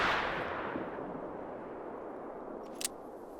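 A high caliber hunting rifle shot in theHunter: Call of the Wild: one loud report at the start whose boom decays slowly into a long rolling tail, followed by a small metallic click near the end.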